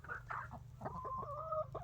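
Laying hens on a farm cluck in a busy, close chorus of short clucks and rising drawn-out calls, moderately quiet, with no speech.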